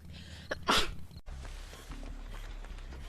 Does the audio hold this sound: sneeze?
yes